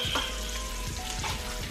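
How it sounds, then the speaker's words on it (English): Bacon sizzles steadily in a hot pan, a constant crackling fry with no talking. "Look at that bacon sizzle, sizzle, sizzle, baby."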